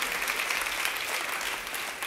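A church congregation claps loudly to welcome guests at a morning service, dense steady applause filling the room without a break.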